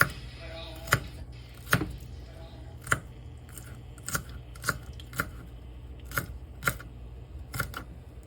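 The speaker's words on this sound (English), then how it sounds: "I'm going to slice up this celery. Let me first slice it in a couple pieces. And then I want to dice it." A knife chops through celery on a cutting board in a home kitchen, about ten sharp, fairly evenly spaced cuts close up, with a faint hum underneath and no voices.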